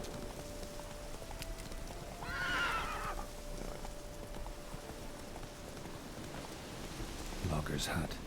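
Roach the horse in The Witcher 3 video game whinnies once, a clear mid-clip neigh over steady rain on the ground, followed by a snort or hoof sound near the end.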